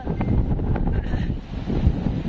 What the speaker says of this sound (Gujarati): અત્યારે દરિયાને કાંઠે રહેવાતું નથી એટલો પવન એટલો મારે છે